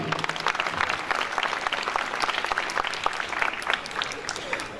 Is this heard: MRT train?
no